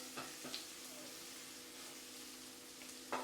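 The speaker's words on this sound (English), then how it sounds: "add in our garlic and ginger paste and saute for a little bit" Garlic and ginger paste sautéing in a hot pan, a steady faint sizzle with a couple of brief stirring clicks, close and alone with no talk.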